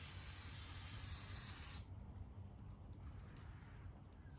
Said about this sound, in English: I'm gonna spray this inside, because that's gonna keep bugs from it.